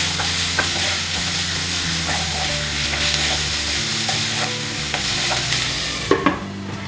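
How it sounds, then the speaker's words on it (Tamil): Chopped onions sauté in a pan for capsicum gravy, a loud continuous sizzle and frying hiss with occasional stirring scrapes and a spatula knock near the end. "இது வந்து நல்ல கலர் மாறுற வரைக்கும் நல்லா வதக்கிக்கலாம்"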